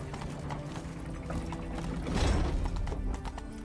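Horse hooves clopping in The Witcher 3, a steady rhythmic beat of hoofsteps under game ambience that swells louder midway, with no voices.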